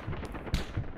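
Gunfire in BattleBit Remastered cracks out in quick, loud bursts, a sharp report cutting through a rumbling backdrop of battle noise within a brief moment.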